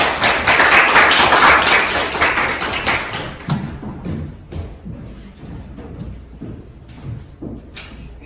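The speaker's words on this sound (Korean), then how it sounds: "큰 박수로 좀 모시겠습니다" Applause from a church congregation welcoming a speaker to the front, a dense wash of clapping for about three seconds that fades into scattered taps and room noise.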